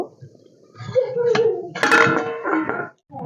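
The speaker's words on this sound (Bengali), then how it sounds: "এবার আমি ঢাকনাটা খুলে দেখব" Lid lifted off a pot of cooking cauliflower, with a couple of metallic clinks and a clatter against a person talking close by.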